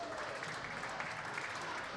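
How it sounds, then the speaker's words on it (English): Mild applause from St. Thomas Academy fans at a high school hockey game comes through as a faint, continuous wash of clapping blended with arena crowd noise. "St. Thomas Academy fans with some mild applause."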